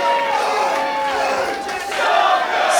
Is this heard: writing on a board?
no